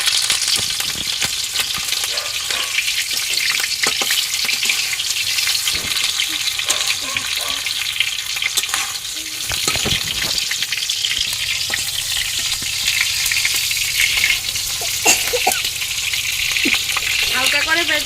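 Giant river prawns fry in a pan for a coconut prawn dish, giving a loud, continuous sizzle with occasional stirring scrapes and a voice speaking over it.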